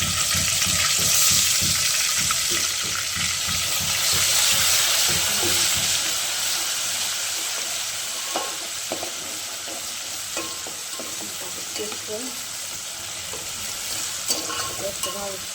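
Masala paste fries in a pan with a strong, continuous sizzle while a spoon stirs through it, sending frequent scraping knocks over the hiss and keeping the sound close and busy throughout.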